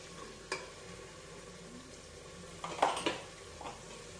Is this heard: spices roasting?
yes